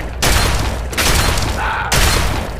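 Loud bursts of gunfire in the video game Fallout 3 come in dense, sustained volleys separated by brief gaps, close and forceful throughout.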